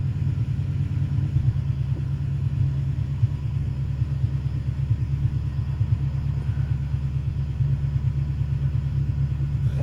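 A car engine idling roughly after an exhaust repair, with no catalytic converters fitted, gives a loud, steady low rumble with an uneven pulsing throb throughout. No voices.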